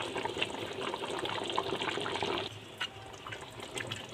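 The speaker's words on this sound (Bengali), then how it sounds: "ফুটতে শুরু করে দিয়েছে" Meat in water in a cooking pot begins to boil, giving a soft, faint, continuous bubbling and hissing that eases slightly partway through.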